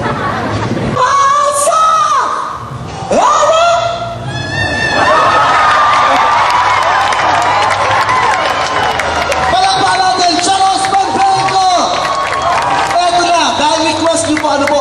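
Loud crowd of mostly young voices cheers, screams and shouts excitedly, with some clapping and a brief dip before the noise surges back and stays strong.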